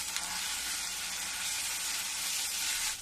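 A paste of ground ginger, garlic and green chili fries in hot oil in a pan, giving a loud, steady sizzle close up, with no talk over it.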